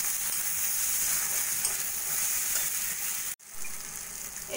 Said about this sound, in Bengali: সব কিছু দিয়ে ভালো করে আমি মশলাটা কষিয়ে নেব।